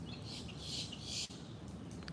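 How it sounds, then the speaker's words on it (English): Faint, high bird chirps and twitters come through over a soft, steady background hiss, with a few brief calls near the end. "it's very good and healthy to listen to the birds."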